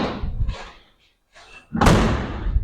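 The cab door of a 1968 G20 van swings shut with one solid slam and a metallic thud, loud and near, after some quieter handling noises.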